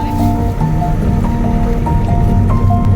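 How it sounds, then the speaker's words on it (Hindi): Light rain falls steadily outdoors as a constant soft wash of patter, with a few faint thin tones drifting through. "बारिश हल्की हल्की पड़ रही है"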